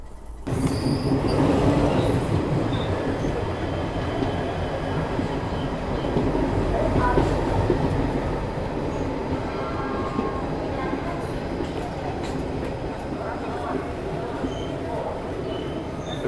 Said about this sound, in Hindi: जोधपुर साबरमती एक्सप्रेस।